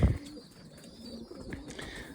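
Pigeons coo softly inside a dovecote, a few low, rolling calls from nearby after a brief knock at the start, with no voices.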